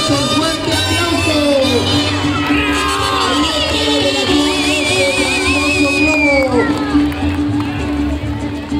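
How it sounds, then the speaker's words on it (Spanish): Outdoor crowd at the Cherán hot-air paper lantern (globos de Cantoya) festival, cheering, whooping and shouting with children's voices mixed in, a loud continuous hubbub under steady music. "Vamos a brindar un saludoso fuerte aplauso."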